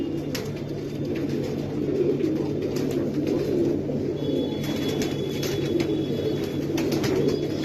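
Golden pigeons on a rooftop coo steadily in low, throaty bursts, with a constant hum and faint rustling underneath.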